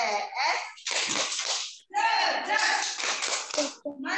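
Kindergarten children perform a rhythmic class clap chant, their voices chanting in unison over patterned hand claps in close, lively bursts with two brief pauses.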